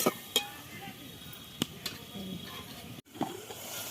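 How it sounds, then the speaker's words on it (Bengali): Spices fry in a pan for a Bengali-style cabbage ghonto with pumpkin and soybean: a soft, steady sizzle up close, broken by a few sharp clicks and scrapes of stirring. "এরকম মশলা ভাজা হয়ে গেছে আমার।"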